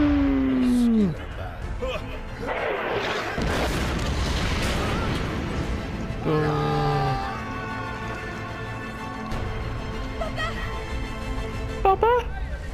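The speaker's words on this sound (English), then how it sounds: "Ooh, cannon." A heavy cannon boom bursts out amid game music and sound effects in Valiant Hearts, and a voice talks around it.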